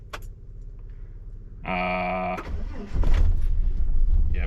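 An XE Ford Falcon engine cranks and catches with a brief starter whir, then settles into a loud, steady, slightly rough idle close by, after a short spoken word.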